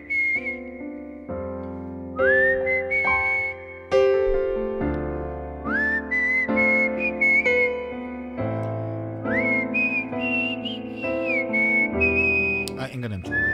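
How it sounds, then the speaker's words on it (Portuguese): A woman whistles a melody in a live broadcast, the clear sustained tune phrased in long held notes with short slides between them, loud and close with no speech over it. "Eu sou muito boa na arte do assobio."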